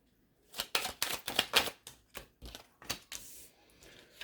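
A deck of tarot cards is riffled and shuffled in a rapid series of crisp, close bursts that slow and fade near the end.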